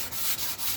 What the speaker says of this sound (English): I've been sanding this for about 3/4 of an hour now